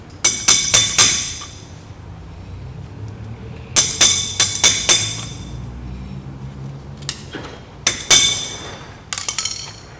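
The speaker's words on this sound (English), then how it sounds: "So just crack open this grease cap." Hammer blows knocking open a brake grease cap on a van: groups of sharp, ringing metallic strikes in quick clusters of three to five, loud and close, separated by short pauses, with no talking.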